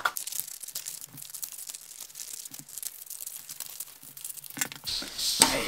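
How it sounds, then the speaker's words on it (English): Scissors snip around the edge of a hole in folded paper for a monster-foot craft, giving a run of close, dry crinkling and cutting noises that grow louder and busier toward the end. "I can put my scissors in and cut around the edge of this hole"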